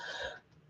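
A single short cough with throat-clearing quality, close and fairly quiet, fading into near silence after about half a second.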